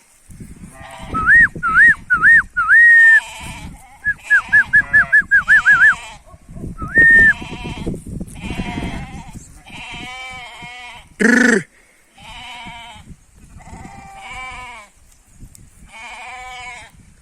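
Sheep bleat repeatedly in quavering calls, several in quick succession, mixed with people talking nearby and one louder bleat later.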